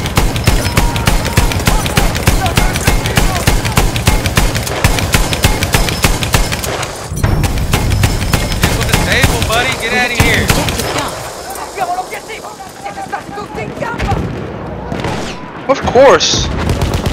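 Dense automatic and rapid gunfire from Battlefield 1 fills the first seven seconds, loud and continuous with booming impacts, then thins to scattered shots and a sharp crack near the end, while someone talks over the action.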